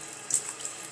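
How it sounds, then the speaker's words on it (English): A sink tap runs steadily in a household bathroom, a continuous close hiss of flowing water with a brief louder splash partway through, and no voices. "All you gotta do is turn on the water."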